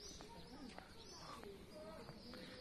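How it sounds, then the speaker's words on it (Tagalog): Many birds call inside a cave in Saudi Arabia, with scattered chirps and cooing notes echoing at moderate distance over a steady background hiss; a voice speaks faintly in places. "Napansin ko lang na marami siyang daming ibon."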